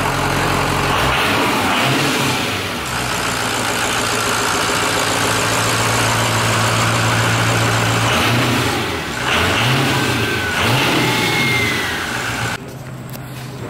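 A bus engine, due for conversion into a demolition limo, roars loudly and near, rising and falling through repeated revs over a heavy idle before dropping away at the end.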